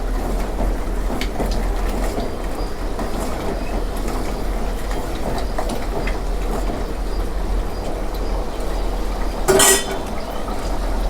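A ladle stirs crab curry in a pot over an outdoor fire, giving scattered scrapes and clinks over a steady low rumble of background noise, with one sharp metallic knock near the end.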